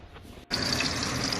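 Beef shank and beef bones go into really hot water in a pot while making Vietnamese beef pho, giving a sudden splash followed by a steady close rush of pouring, bubbling water after a quiet start.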